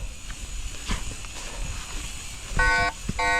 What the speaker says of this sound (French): Si le vélo, je commence à le déplacer,